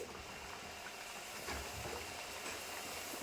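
Pieces of jowar flour dough frying in hot oil, a steady, dense, even sizzling hiss with faint crackle, continuous and fairly quiet, with no voices over it.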